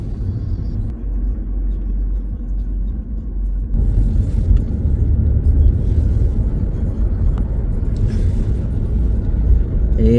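Steady road traffic on a Toronto highway, a continuous broadband rumble of passing cars that grows louder partway through, with no voices.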